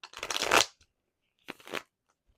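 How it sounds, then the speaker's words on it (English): Tarot cards are riffle-shuffled close up in two quick bursts, a longer crisp rippling flutter followed by a shorter one after a brief pause, with quiet in between. "I'm going to shuffle a few more times"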